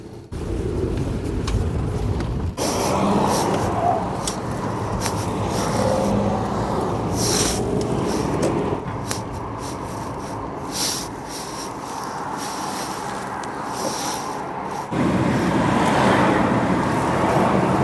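A Rover 25 car drives along a road, its steady engine and tyre rumble filling the cabin at a constant level with a brief shift in tone partway through, and no one speaking.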